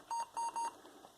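A Gateway MT6460 laptop powering on gives three short, evenly spaced electronic beeps, clear and close against a faint background hiss.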